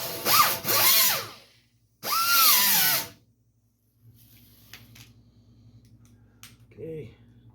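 A power drill or rotary tool strips paint from a 1951 Chevy headlight trim part in two loud bursts of about a second each, then quiet workshop handling noises and a brief voice.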